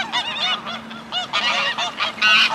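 A flock of geese on a waterfront in Alanya, Turkey, honking in a noisy, overlapping clamor, loud and close, with calls bursting out in rapid clusters throughout.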